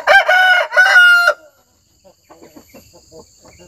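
A rooster crows loudly and close in two strong bursts at a forest hut yard, followed by quiet pecking, clucking and rustling as chickens are fed.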